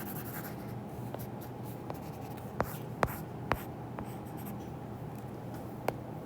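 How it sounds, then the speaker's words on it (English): A marker or chalk scrapes and taps on a board during a math lesson, with steady writing strokes and a few sharp clicks over a low room hum, no voices. "I'm going to erase this just so I make sure I have enough room."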